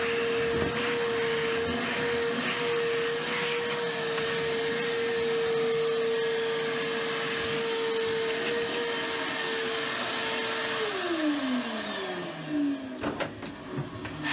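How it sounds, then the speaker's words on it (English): Loud, steady vacuum cleaner drone sucks up aluminum chips and grinding debris in the bilge of a fishing boat, then winds down with a falling pitch near the end. "it's just easier to vacuum up from there"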